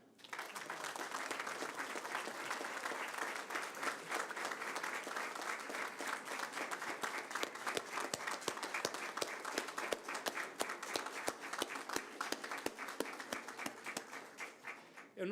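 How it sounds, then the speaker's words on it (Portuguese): Sustained applause from an audience at the Brazilian Supreme Court honoring minister Celso de Mello, a steady wash of many hands that turns into sharper, rhythmic unison clapping in the second half. "para quem eu peço o aplauso de todos"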